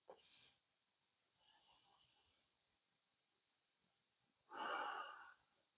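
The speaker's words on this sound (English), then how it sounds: "Taking a few breaths." Slow yoga breathing heard close and quiet: a short sharp inhale, a faint airy breath, then after a pause a longer audible exhale, with silence in between.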